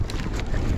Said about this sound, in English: It's a bit windy up at the top.